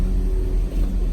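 A Chevy Camaro with its shifter in drive creeps forward, a steady low engine hum and drivetrain rumble close by, with no voices.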